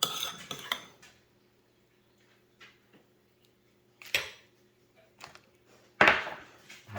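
A spoon clinks against a microwave-safe bowl while grits are stirred, in a few sharp scraping bursts separated by near silence.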